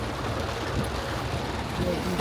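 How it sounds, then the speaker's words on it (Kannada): Heavy, pouring rain at Dharmasthala. A dense, steady hiss of rainfall fills the whole short stretch, and a voice is faintly heard within it. "ಜೋರ್ ಜಡಿ ಮಳೆ."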